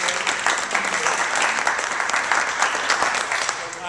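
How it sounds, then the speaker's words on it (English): An audience at an online learning design session applauds the guest speakers, a continuous wash of close, steady clapping that holds at an even level for a few seconds. "We'll give them a round of applause for joining us today."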